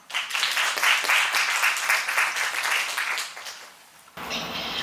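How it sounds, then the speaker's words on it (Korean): A forum audience applauds to welcome a youth presenter, a full round of clapping that swells, holds for several seconds and then tapers off before cutting to quieter room sound. "발표를 맡아주신 이영은 청년 대표자 큰 박수로 맞이해 주시기 바랍니다"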